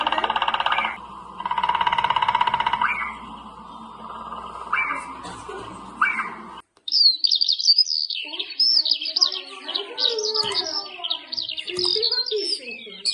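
Titmice sing in early spring with bright, repeated chirping phrases that come in close succession, following a stretch of other sound with a voice talking earlier on.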